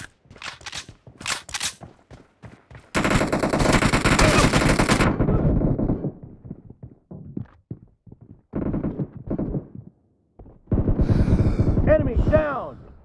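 PUBG Mobile battle royale gunfire: several rapid automatic bursts and scattered single shots, loud and close, with short gaps between volleys.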